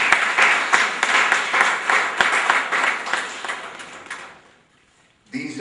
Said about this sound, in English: I would like to ask you all to please give a round of applause to our kids